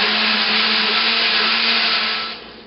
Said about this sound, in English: And put the top onto the blender, hold it on securely,